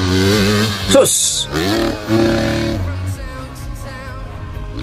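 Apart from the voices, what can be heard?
250cc motorcycle engine revving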